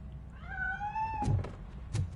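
A cat in the Robocop: Rogue City video game lets out a clear, rising meow as it escapes, followed by a couple of dull thumps as it scrambles away.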